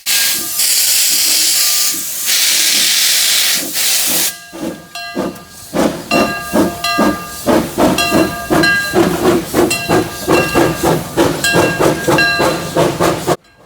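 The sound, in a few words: steam locomotive number 2 departing, hissing steam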